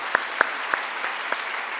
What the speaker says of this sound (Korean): 자, 하나님께 영광의 박수 올려드리겠습니다.